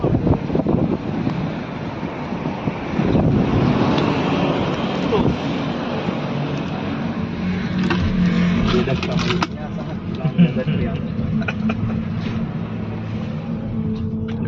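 A powerful car cruises along a road in Thailand, its engine rumble and road noise mixed with heavy wind buffeting the microphone, while people talk over the steady drive.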